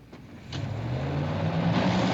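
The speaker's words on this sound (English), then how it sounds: "by the time I got outside, Elle was already getting into a car, a different one from that first night" A car engine hums close by at night and steadily grows louder as it pulls away down the street, with a low droning tone rising through the brief clip.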